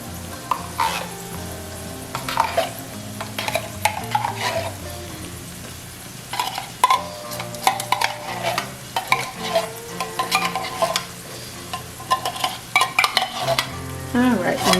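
A spoon stirs cream of mushroom soup into a white wine seafood pasta sauce in a pan, with repeated close scraping and wet sloshing over a low sizzle and no voices.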